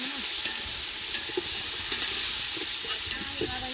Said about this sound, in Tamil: இப்போ தக்காளி சேர்த்துக்கோம்